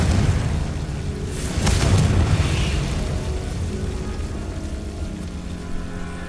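A Confringo fire spell bursting in Hogwarts Legacy, a deep rumbling boom with a short crackling burst that fades into a lingering low roar, no talk.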